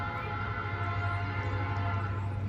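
An Indiana & Ohio Railway grain freight train drawing near, a steady low rumble and drone with a sustained horn-like tone holding throughout at moderate distance.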